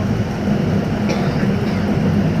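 Cox's Bazar Express passenger train running, a continuous low rumble and rattle from inside the carriage, with faint voices in the background.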